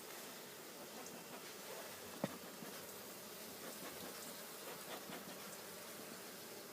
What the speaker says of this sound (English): Now there's a lot more bees in here,